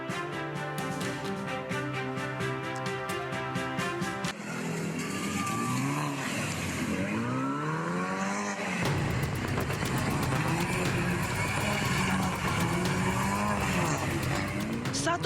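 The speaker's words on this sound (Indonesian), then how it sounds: "Satu persatu mobil mewah melakukan aksi nekat dan berbahaya drifting di persimpangan Jalan Metro Pondok Indah Kebayoran Lama, Jakarta Selatan" Luxury cars drifting through a street intersection at Jalan Metro Pondok Indah, Kebayoran Lama, South Jakarta: loud revving engines and sweeping tire squeals that rise and fall repeatedly, layered with crowd noise and broadcast-style background music.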